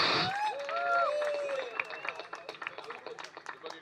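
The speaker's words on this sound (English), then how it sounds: "Loud round of applause" At the Mumbai Moments Excellence in Photography Awards 2019, the audience applauds a winner with a scattered patter of claps that builds in the latter half, with voices and whoops over the start.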